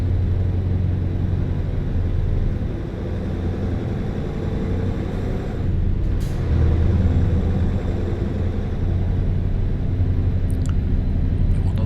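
A Scania truck hauling a 14-ton load rolls along the Norwegian coast in Euro Truck Simulator 2, its engine a steady, loud low rumble with continuous road noise throughout.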